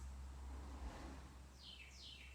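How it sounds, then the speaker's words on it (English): Two faint chirps from small, plump birds outdoors, heard far off over steady low rumbling background noise, each call a short descending tweet. "It's these little adorable fat birds."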